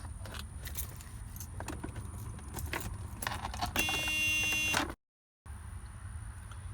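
Car keys jangle in the ignition of a Mercedes 300D diesel as the key is turned on, with loud clattering bursts and a steady chime or buzz before the sound cuts out briefly.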